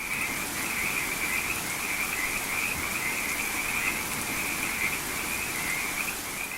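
A frog croaks continuously in a steady, dense chorus-like rhythm, moderately faint and alone, with a soft rain-like hiss underneath and no voices.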